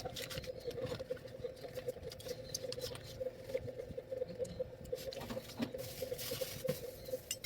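Light rain on a rainy Saturday, a soft, steady patter of small drops, close and continuous, with a low hum underneath and no talking.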